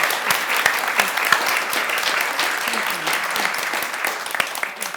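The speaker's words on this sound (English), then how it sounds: "I think that requires some applause before we even end." An audience applauds after a talk, the clapping sustained and dense throughout, with a few louder claps standing out near the front.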